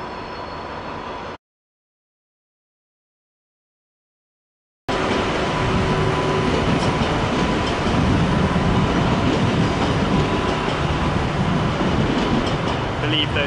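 An old ICE high-speed train, a first or second generation set, rolls past outside München Hbf in the evening, a loud sustained rumble and rail roar that starts after a few seconds of silence and carries on steadily.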